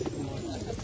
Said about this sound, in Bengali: পায়রাটা একবার দেখো শুধু